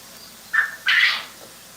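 Baby quail chicks give two short, high calls close by, the second longer and louder, against a quiet background.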